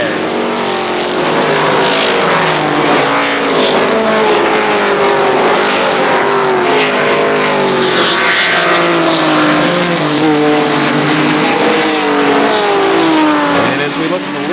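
ARCA SuperCars stock cars, including a 1995 Thunderbird, roar around a speedway in a steady, loud engine drone that swells and fades as cars pass, with commentary heard over the racing.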